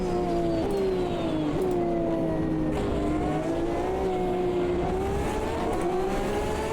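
Race car engines in the Automobilista 2 game at Laguna Seca, a Porsche among them, drone and whine steadily with rising and falling pitch as they shift gears, loud and continuous with several cars overlapping.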